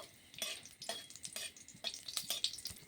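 Chilies frying in oil with a pinch of salt are stirred in a pan, giving a run of soft scraping strokes over a faint sizzle, fairly quiet and close.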